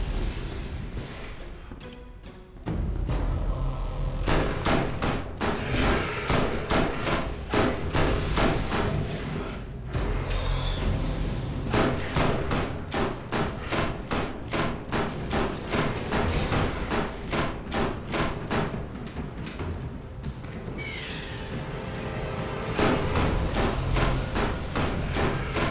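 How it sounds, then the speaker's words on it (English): Repeated heavy thuds and booms of grenades and gunfire in the video game Borderlands, a long dense barrage of sharp impacts with brief pauses, loud and close. "Grenades."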